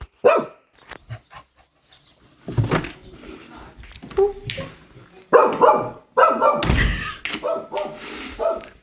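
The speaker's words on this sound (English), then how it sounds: "of course dogs bark" Puppies bark loudly at a stork on the roof in Romania, in irregular bursts, some sharp single barks and some rapid clusters, with whimpers and occasional thumps between them.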